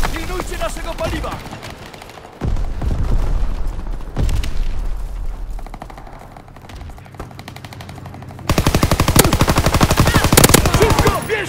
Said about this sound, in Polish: Rzucam granat!